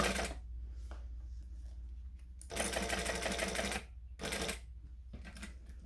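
A sewing machine stitches a back pocket onto a bag in several separate bursts, loud and close, with quiet pauses between runs as the fabric is pivoted.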